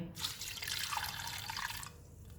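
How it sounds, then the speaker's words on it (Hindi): Water pours steadily into a pressure cooker of spiced beef, a bright splashing rush that fades near the end. The sound is close and moderately quiet. "एक कप पानी डालेंगे।"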